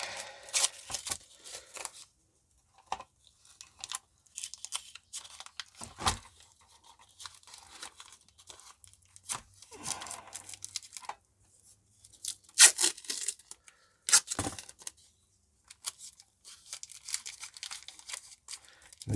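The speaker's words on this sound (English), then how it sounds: "you get some masking tape." Masking tape being pulled and torn off a roll while fixing a USB charger FM radio, with sharp ripping bursts and crinkly handling noises scattered between quiet gaps, close up and with no talking.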